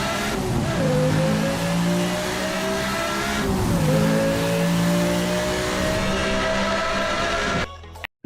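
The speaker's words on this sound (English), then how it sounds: "this car also sounds great when you hit the accelerator" Sports car engine accelerating in the racing game Need for Speed Hot Pursuit, a loud continuous rising whine that shifts gears twice as the revs climb, alone with no talk, cutting off abruptly at the end.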